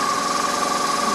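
A 2002 BMW R1150 RT motorcycle engine idles steadily at around 1100 RPM in Carson City, Nevada. It gives a constant, close, fairly loud drone with a fast, even pulse and no talking.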